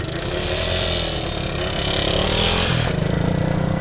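A scooter engine runs steadily at the Mongol Rally start, close and loud, with a constant rough drone and a slight shift near the end.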